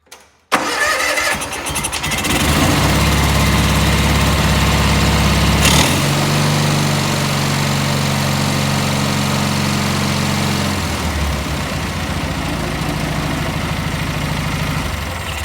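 Kohler M18 engine on a Cub Cadet mower cranking and catching, then settling into a loud, steady close-up idle with a slight drop in pitch partway through, no talk over it.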